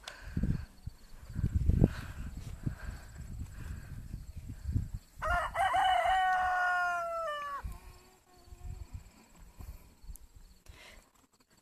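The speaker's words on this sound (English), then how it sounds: "ours crow nonstop all day too, so I don't know what is it with this myth that roosters only crow in the morning" A rooster on a farm lets out one long, loud crow that rises and trails off over a couple of seconds, surrounded by scattered thumps and clucking-like rustle from the yard, with no talking.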